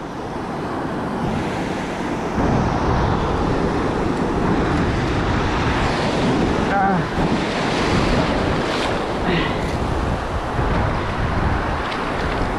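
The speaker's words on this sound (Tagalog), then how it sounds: "lalaki ng alon, no?" Large ocean waves at a coastal fishing spot, a continuous roaring surf that breaks loudly and close, with heavy wind buffeting the microphone throughout.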